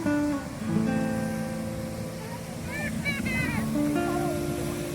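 Sea waves breaking and washing ashore on Vizag beach in Visakhapatnam at night, a steady surf roar with people chatting close by.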